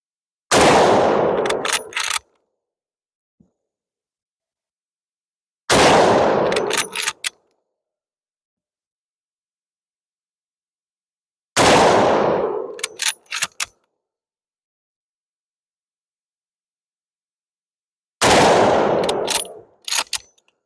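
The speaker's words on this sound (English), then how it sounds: "For an old rifle and old ammo, it shoots pretty good" A Russian M91/30 ex-dragoon rifle fires old ammunition in four loud single shots, spaced several seconds apart, each with a sharp crack and a long rolling echo that fades before the next.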